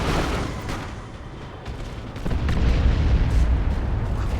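Burner bomb blasts in the strategy game Dawn of War 2: Retribution, a rumbling explosive roar with crackling bursts that swells louder halfway through amid dense battle noise.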